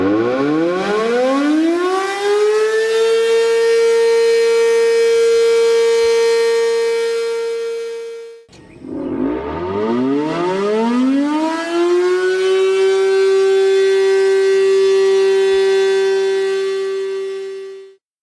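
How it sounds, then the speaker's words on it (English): An 8-port Banshee civil defense siren winds up from a low growl to a loud sustained wail, fades briefly, then winds up again and holds its steady tone before cutting off. "So here's the sound of an 8-port Banshee to give you an idea of what an 8-port canister would also sound like."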